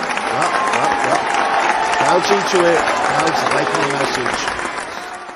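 Crowd applauding and cheering after a speech, steady dense clapping throughout with someone talking over it, the applause slowly easing off near the end.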